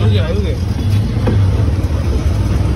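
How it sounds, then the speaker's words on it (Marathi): An auto rickshaw rolls through rain, its engine and road noise forming a steady, loud, continuous rumble close by, with faint voices in the background. "आधी गाडीत होता आता रिक्षात."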